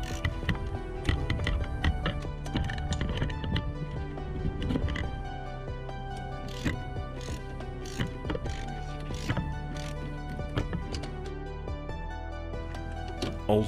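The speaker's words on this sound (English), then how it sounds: "Now let's loosen up these top bolts." Ratcheting and creaking of a socket wrench loosening the top bolts of a side engine mount on a 2009-2015 Honda Pilot, close up, with repeated clicks and metallic taps over a steady low hum.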